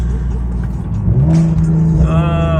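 A car driving on uneven roads in cold weather lets out a short burst of exhaust pops over a loud, rising engine drone that swells into a rev near the end.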